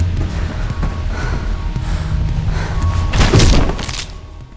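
A hard landing thud after a fall in the video game Mirror's Edge, a heavy impact with a crunching edge near the end, set over a steady game background bed with no talk.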